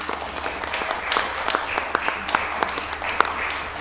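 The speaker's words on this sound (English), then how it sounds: "Please give Chris an enormous round of applause." Audience at a concert workshop applauding a didgeridoo player, a sustained ripple of many hands clapping at moderate distance, with scattered louder individual claps and faint voices underneath.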